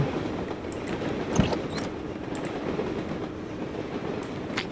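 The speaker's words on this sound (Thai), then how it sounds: "โอ้รถไฟมัน อะไรมันจะเสียงดังขนาดนี้วะเนี่ย" A loud train rumbles steadily past in the Drug Dealer Simulator video game, with a dense clattering roar of rail cars and a sharp knock near the start.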